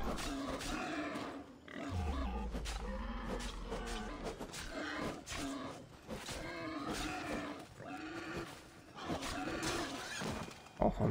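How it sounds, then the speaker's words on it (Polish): Wild boars in Assassin's Creed Odyssey grunt and squeal in repeated harsh bursts, close and busy, with a low rumble and some clatter mixed in. "dziki tu się pojawiły"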